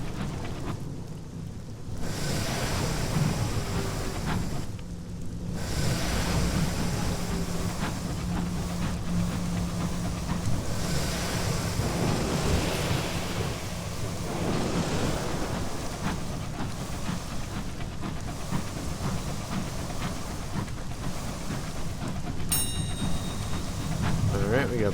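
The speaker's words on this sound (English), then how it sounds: "There's some kind of storm up there?" A thunderstorm in the game Sunless Skies: steady rain hiss with low rolling thunder rumbles that swell and fade across the whole stretch, loud and continuous, with a brief bright chime near the end.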